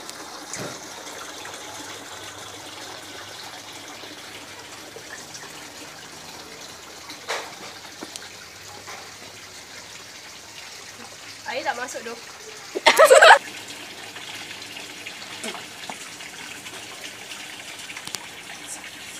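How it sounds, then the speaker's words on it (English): Water slowly fills the inside of a bottle in a student-built submarine model, a faint, low trickling under steady room noise, with brief louder splashes and people talking nearby. "The water is slowly filled inside the bottle."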